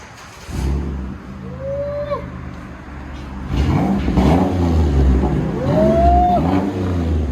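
A 2010 Buick Lucerne with a 3.9L V6 and muffler delete revs loudly and close, rising in pitch through several throttle blips over a deep idle, with rising whines between pulls.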